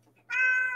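A cat gives a single short, clear meow, close and fairly loud, after a brief quiet moment.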